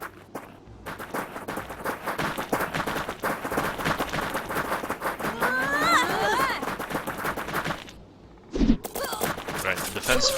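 Rapid bursts of defensive gunfire in the fantasy strategy game Fantasy General 2 crackle as a dense, busy fusillade of repeated shots, with footstep-like clatter, louder mid-clip and dipping briefly near the end before resuming.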